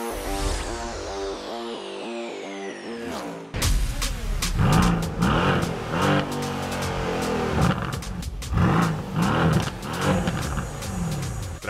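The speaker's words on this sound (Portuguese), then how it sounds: "Essa meca tem um motor V8 biturbo de 510 cavalos e 71 kg de torque." Mercedes C63S with a twin-turbo V8 revving hard, loud repeated throttle blips and deep roaring pulls with rising and falling engine pitch, close by and without talk.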